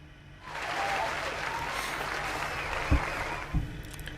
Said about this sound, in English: I hear a wave of applause shower me from everyone in the room.